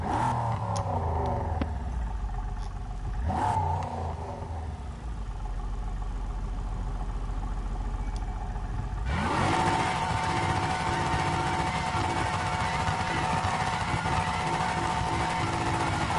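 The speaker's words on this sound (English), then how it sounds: "see, this is the power of V8s." A V8 car engine idles with a low rumble, then revs sharply and holds a loud, steady roar for several seconds.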